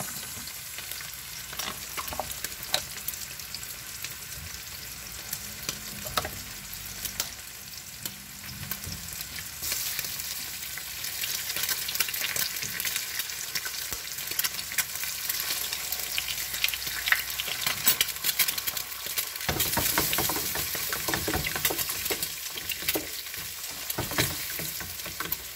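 Eggs frying in a pan alongside rice, cubed ham, bacon and peas for Italian-style Cantonese rice: a steady, close sizzle with scraping and stirring bursts, continuous for the whole stretch with no talking.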